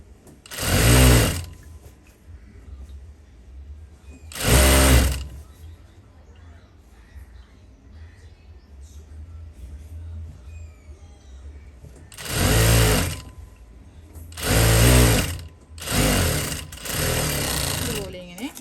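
An electric sewing machine stitching fabric, in several short loud bursts of rapid mechanical whirring separated by quieter pauses, while someone talks between and over the runs.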